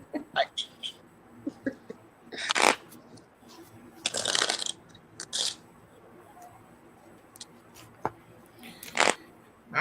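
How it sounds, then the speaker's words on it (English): Playing cards being shuffled by hand for a reading, several short crisp riffling bursts with pauses between them, close and fairly quiet, with faint murmuring voices in the gaps. "I'll be shuffling these cards like I'm in Vegas."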